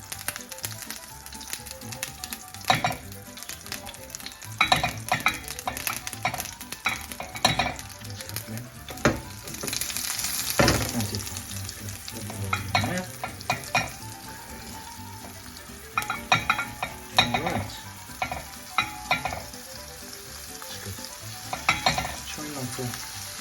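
Meatballs frying in a generous amount of oil in a hot pan, a steady close sizzle punctuated by clinks and scrapes as they are stirred and turned.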